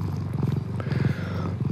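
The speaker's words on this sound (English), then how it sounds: "You guys got to hear how this amazing purr sounds right now." A cat purrs close up in steady rhythmic pulses, each low rumbling burst following the next, alone with no talking.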